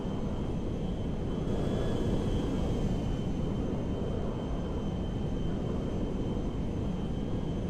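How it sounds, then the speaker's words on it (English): Jet engines of a modded Boeing 747 Dreamlifter cargo plane climbing in GTA 5 make a steady, loud, broad roar with a high whine, continuous throughout and without talk. "You would think a plane like that could not even get off the ground, but it does."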